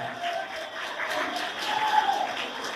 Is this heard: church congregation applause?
yes